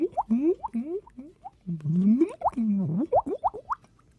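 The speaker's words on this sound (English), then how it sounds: "I love the water sound." Bubbly water sound effect made of quick plopping, bouncing droplet-like blips that sweep upward in pitch, coming in irregular bursts, close and clear with brief pauses between.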